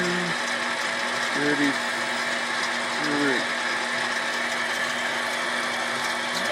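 A metal lathe hums steadily while cutting threads, with a constant motor whine and faint mechanical tones; a person speaks briefly over the machine.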